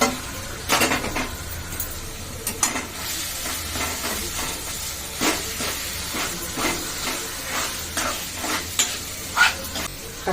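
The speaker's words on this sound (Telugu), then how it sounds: "ఒక టూ త్రీ మినిట్స్ మంచిగా ఆయిల్లో ఆలు కారం టమాటా అన్నీ ఉడికేటట్టు ఉడికించుకోవాలి" Boiled potatoes, chilli powder and tomato cook in oil in a pan, giving a continuous sizzle and hiss broken by irregular spatula scrapes and stirring knocks, close and moderately loud, with no speech.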